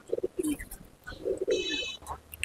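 Malwai pigeons in a loft give soft, close cooing calls in short bursts, with a few brighter chirps layered over the coos.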